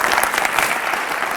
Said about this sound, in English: I want you guys to give the biggest round of applause to Hayden for bringing this to us.